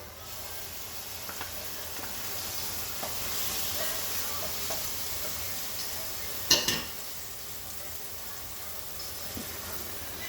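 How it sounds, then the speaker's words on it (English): Minced fresh garlic sizzles in a hot pan for a veggie pasta sauce, a steady close frying hiss throughout with a brief louder spatter midway, no talking. "Add 2 tablespoons of minced fresh garlic."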